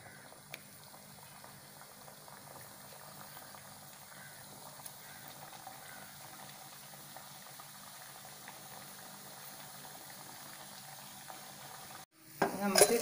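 Badusha pastries fry in hot oil with a steady, soft bubbling sizzle that holds for about twelve seconds before a short, louder clatter at the end.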